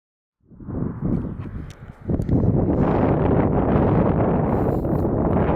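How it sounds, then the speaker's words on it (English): Strong outdoor wind buffeting a microphone: a rumbling roar starts after a brief silence, eases for a moment, then surges into a steady, loud blast that persists to the end. "the wind's got extremely breezy, as you can hear"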